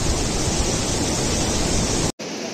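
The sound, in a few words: river water flowing over rocks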